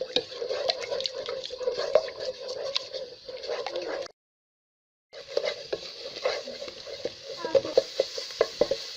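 Eggs are stirred with a spoon in oil for fried rice. A close, irregular patter of scraping and light sizzling runs, stops for about a second, then starts again with sharp clicks of the spoon.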